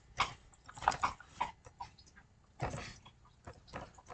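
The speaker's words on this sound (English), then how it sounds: "I have my English bulldog lying on the couch chewing a bone," An English bulldog chews a bone on a couch indoors, with faint irregular gnawing, crunching and licking bursts spread unevenly through a quiet room.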